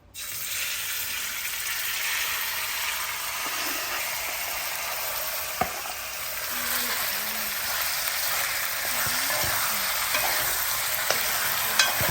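Food sizzles steadily in hot oil for a sweet and sour dish, a broad constant frying hiss with occasional soft stirring clicks and scrapes, close and alone without voices.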